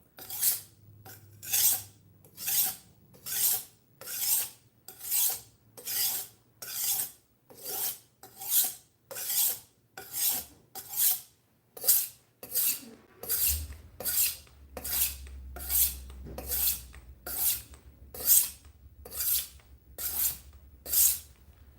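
A budget knife is sharpened on a whetstone worked up with slurry. It makes steady, rhythmic rasping strokes, about one per second and over twenty in all. The scraping is close and clear, with no talk.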